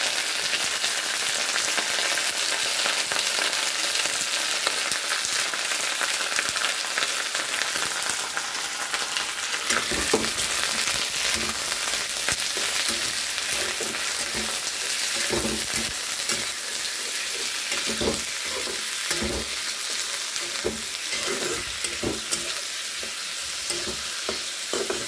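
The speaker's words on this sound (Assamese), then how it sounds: "প্ৰথমতে মাংসখিনি এইখিনি সুন্দৰ ভাজি লওঁ" Meat sizzles and fries steadily in a hot pan with onions, a continuous crackling hiss broken after the first few seconds by repeated scraping and stirring clatters, close and fairly loud with no talking.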